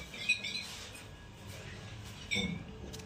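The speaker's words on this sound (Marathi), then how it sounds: "सकाळची चिमण्याचा आवाज येतो" Faint house sparrow chirps in the morning sound in two brief bursts, distant and soft against a quiet outdoor background.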